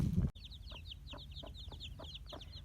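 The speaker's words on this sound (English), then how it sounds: "These are some baby chickens that were born at my house 3 days ago, and this is their mama" A mother hen with baby chicks three days old: chicks peep in a busy high cheeping chorus while the hen gives soft, evenly spaced low clucks nearby, after a brief louder rustle at the start.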